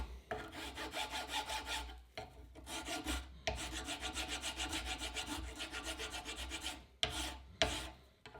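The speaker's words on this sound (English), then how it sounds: "you can also use a file to take off the rust" Hand file scraping rust off car brake parts during a brake rotor and pad replacement, rhythmic rasping strokes in quick bursts with short gaps between passes, close and alone.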